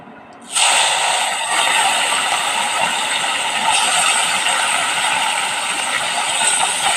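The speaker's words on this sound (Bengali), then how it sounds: "এই খোসা মাছটা, পুঁটি মাছ, এবার এটা নুন হলুদ মাখানো আছে, এবার এটাকে ভাজবো" Salted, turmeric-rubbed puti fish sizzles in hot oil, a loud, steady hiss of frying that starts abruptly and continues evenly throughout.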